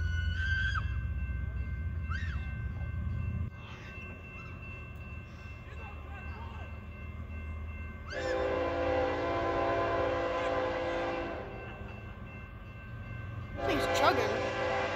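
An eastbound BNSF intermodal freight train rumbles past at a crossing in Chillicothe, Illinois, with steady low wheel and engine drone and long, loud horn blasts sounding twice, plus faint voices in the background.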